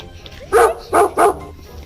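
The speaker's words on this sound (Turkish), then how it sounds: "Nerede köpek?" A dog barks three times in quick succession, loud and close, with short pauses between barks and a quiet background.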